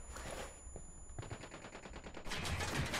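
Rapid bursts of automatic gunfire in the video game Ghost Recon Wildlands, a dense rattling firefight that grows louder and busier toward the end, with no talk.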